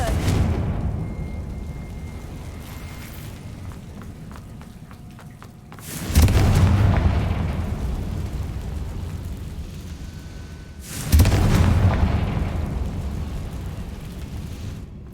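Two loud Confringo explosion spells in the Hogwarts video game, each a sudden booming blast that rolls off into a long rumbling decay, spaced about five seconds apart over a low background rumble.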